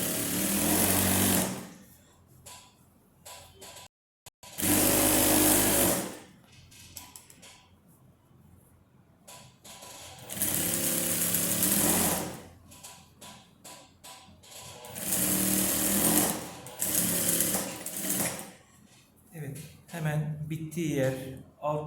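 Sewing machine stitching a wrap dress: several bursts of rapid, buzzing mechanical whirring, each a few seconds long, close and loud, with someone talking in the quieter gaps between runs.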